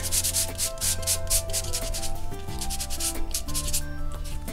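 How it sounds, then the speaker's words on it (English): Quick, rhythmic rubbing strokes of a paper scruffer sanding cardstock, close up, with steady background music underneath. "and you do a little bit of sanding, remove some of the color"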